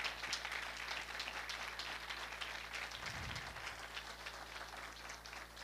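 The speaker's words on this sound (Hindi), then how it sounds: "मैं चाहूँगा कि हम अच्छी क्वायर के लिए और पूरी जोसाया फेलोशिप चर्च के लिए हम ज़ोरदार तालियां बजाएंगे" A congregation at Josiah Fellowship Church applauds the choir during an Urdu sermon service, a continuous wash of clapping with a low steady hum underneath and a brief thump partway through.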